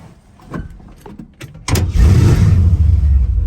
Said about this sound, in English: We're gonna get up in our 67 C10 and start it up for you.